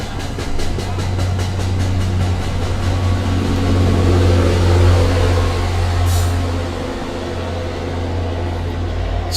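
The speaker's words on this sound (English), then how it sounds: "Here comes the commuter rail rolling through" A commuter rail train rolls past a summer baseball game, a loud continuous low rumble and rhythmic rattle of wheels that swells and then eases over several seconds.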